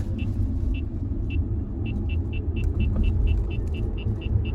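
A Tesla electric car at full throttle gives a steady, loud low rumble of road and motor noise, with a faint high whine recurring in regular pulses throughout.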